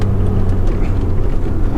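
Mercedes A45 AMG engine and exhaust running steadily up close, a loud continuous low rumble with a droning tone and no clear revving peaks.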